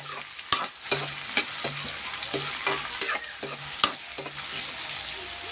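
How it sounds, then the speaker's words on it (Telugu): Tomato pieces and chicken sizzle in a pan, a steady crackling fry broken by repeated scraping stir strokes of a spatula, close and fairly loud, with no voices. "కొంచెం ఫ్రై అయ్యాక టమాటా ముక్కలు వేసుకుంటే మనకి టమాటా ముక్కలు కూడా కొంచెం ఫ్రై అవుతుంది"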